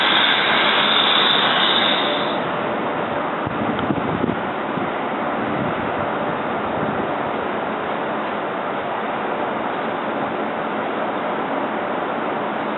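A train rolls through Philadelphia's 30th Street Station, a steady broad rumble with rushing, wind-like noise that stays loud and even throughout, a little louder at the start, with no talk.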